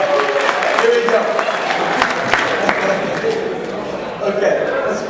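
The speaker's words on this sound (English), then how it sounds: "Big round of applause for all these people up here." Audience applause and cheering in a hall during a hypnotist's stage show, sustained clapping with crowd noise for volunteers on stage, steady and fairly loud throughout.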